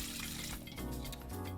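Water poured into a bowl as the wet base for muffin batter, a steady continuous splashing pour heard up close with no talking.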